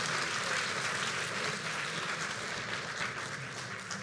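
A church congregation applauds during a Spanish-language sermon, dense steady clapping filling the whole stretch at an even, loud level.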